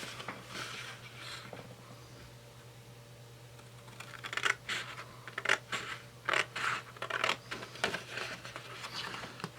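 Scissors cut a paper rectangle template for a homemade external flash diffuser, sounding as a quiet stretch followed by a run of crisp, irregular snips and paper rustles close by from about the midpoint on.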